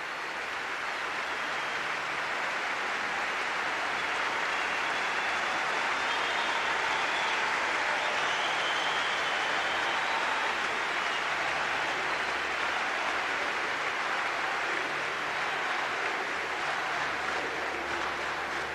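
Prolonged applause from a large arena crowd after the 2000 Masters Cup tennis final honoring Agassi, a continuous distant roar of clapping that stays level for the full length.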